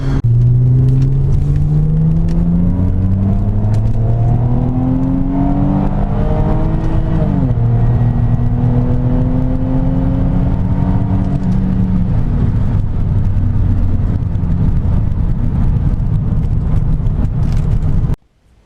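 A Chevrolet Trailblazer SS drives along with a loud, steady engine drone and road rumble, pitch rising through the gears as it accelerates, heard from inside the vehicle until an abrupt stop.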